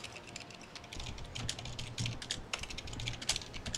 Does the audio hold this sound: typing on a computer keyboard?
yes